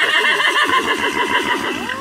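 Horse neighing close by, a loud, continuous whinny with a wavering, shaking pitch that lasts throughout and ends with a rising tail.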